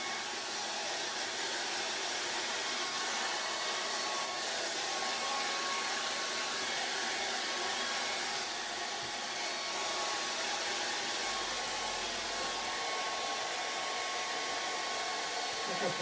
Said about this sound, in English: get your hairdryer, pull it through this lens again,